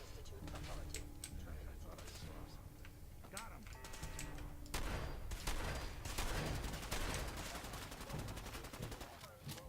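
Institute rifles fired by synths in a Fallout video game produce a steady stream of rapid, crackling shots and bursts, with keyboard-like clicking mixed in and a voice talking over it.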